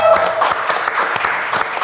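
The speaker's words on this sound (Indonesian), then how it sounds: "itu tepuk tangan untuk rempah Indonesia" A studio audience at an Indonesian talk show bursts into brief, close applause, a quick flurry of clapping with a few louder individual claps standing out.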